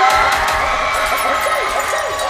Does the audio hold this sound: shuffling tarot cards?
no